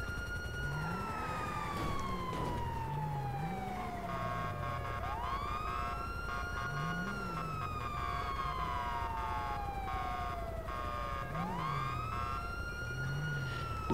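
A video game ambulance siren wails, sweeping up and down repeatedly, loud and continuous over a constant engine-like drone, with a second siren tone layered in.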